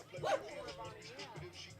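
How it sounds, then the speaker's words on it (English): A dog barks once or twice, faint and distant, under murmuring voices at a college softball game. "Even got the dog barking."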